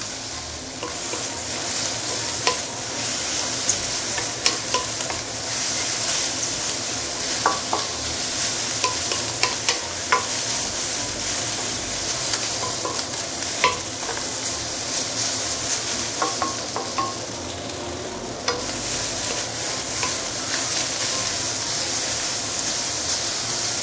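Singapore hokkien mee, prawn noodles and bihun charring in a wok: a steady loud sizzle of frying goes on throughout, with scattered metallic clinks and scrapes of stirring, and no talk.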